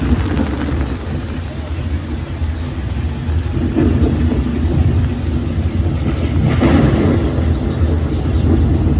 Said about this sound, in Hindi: ऊपर का नज़ारा भी दिखाएं तो बारिश किस तरह हो रही है